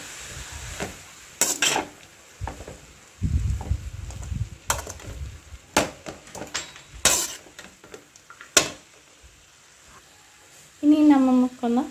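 A pot lid is lifted and spinach stir-fry is stirred with a utensil in a home kitchen, giving scattered scrapes, clinks and knocks with quiet gaps between, and someone talks at the end.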